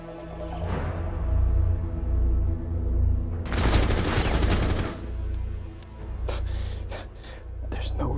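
Gunfire in the tactical shooter Rainbow Six Siege: a dense burst of rapid shots in the middle, followed by a few sharper separate cracks, all over a steady game hum with soft voice sounds underneath.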